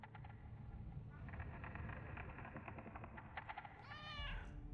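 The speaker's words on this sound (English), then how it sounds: "We can pet the cat." A cat meows inside a haunted house video game, a short rising, harmonic call near the end that stands out over steady game background noise.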